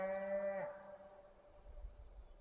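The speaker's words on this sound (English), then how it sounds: "Don't mind the cows in the background," A cow moos once in a rural outdoor setting, a single drawn-out call that drops off after about half a second, fairly distant and faint, followed by quiet ambience with insect chirps.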